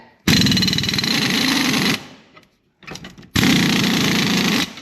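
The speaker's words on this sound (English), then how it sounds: "I'm going to try air impact this time" Air impact wrench hammering at a rusty trailer leaf-spring suspension bolt: two long, loud bursts of rapid rattling with a short quiet pause between them.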